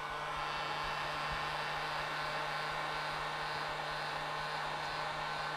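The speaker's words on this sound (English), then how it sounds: "we're going to actually leave the heat gun going" A heat gun blows hot air onto the leather of a Nike Air Max sneaker being restored, a loud, continuous, even roar that holds steady throughout with no talking.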